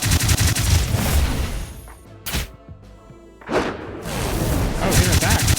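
Mystic Barrage spell attack in the video game Dark Deity bursts out as dense, rapid, booming impacts, loud and close, with thuds and a brief lull midway before the barrage swells again.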